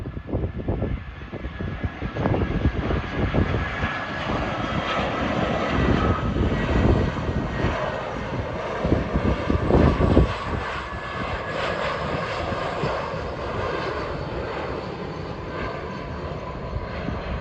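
An airplane passes overhead above the main road near Puerto del Carmen, its broad engine roar steady and loud throughout with some wind buffeting on the microphones.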